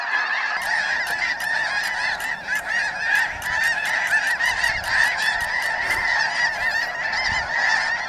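A flock of snow geese at their wintering grounds in Japan honks continuously, many overlapping calls forming a dense, steady chorus with sharper individual honks punctuating it throughout.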